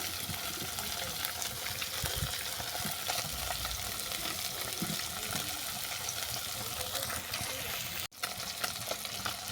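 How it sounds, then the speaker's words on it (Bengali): Hot oil sizzles and spits continuously and loudly at close range as fish fry, with occasional clinks of utensils turning them and a brief pause near the end. "মাছগুলো উল্টে পাল্টে বাদনি করে ভেজে নেব"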